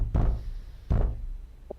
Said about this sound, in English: What? What's that knocking?